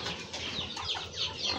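Aseel chickens on a muddy farm in the rainy season flapping their wings, a short, soft burst of fluttering and rustling with no voices.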